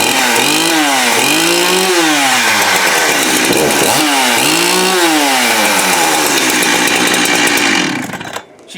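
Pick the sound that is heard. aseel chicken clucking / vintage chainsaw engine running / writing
vintage chainsaw engine running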